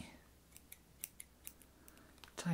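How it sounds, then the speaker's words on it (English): Small sewing-kit scissors used during a suit fitting, giving a series of faint, close, crisp snips spaced irregularly through a quiet room, ending in a louder clack. "tiny scissors."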